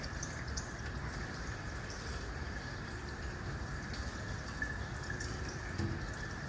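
Water flows steadily into newly installed Reef X aquarium expansion tanks, a continuous close rushing and trickling wash with no talk.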